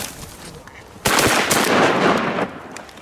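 Shotgun fire during a Minnesota duck hunt, a loud close blast followed by a sustained burst of noise lasting over a second, then fading, after a quieter stretch with faint voices.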